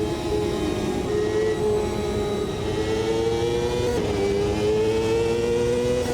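Race car engines on an oval track in a VR racing game, revving and accelerating together at the green flag, a loud, continuous droning roar with rising pitch.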